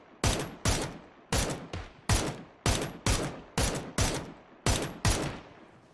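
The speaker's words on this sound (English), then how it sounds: "Just shooting some tires." In the PUBG video game, gunfire shoots at a vehicle's tires as about eleven loud, evenly paced shots, each cracking sharply and then decaying, heard alone and close.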